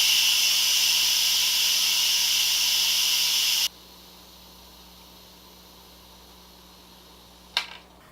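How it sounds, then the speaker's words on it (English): An Instant Pot releases its pressure with a loud, steady steam hiss that cuts off abruptly, followed by quiet and a single short clunk. "Okay, so we've released the pressure."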